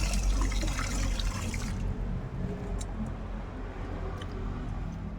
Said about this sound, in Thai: บดไปแล้วก็ล้างน้ำไปเนี่ยครับ